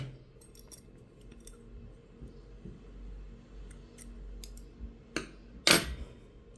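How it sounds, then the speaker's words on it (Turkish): A single crisp snip as scissors cut excess fishing line after tying a knot on a bluefish rig, heard close and brief near the end over faint, quiet background noise. "Şimdi bunun fazlalığını kesiyorum."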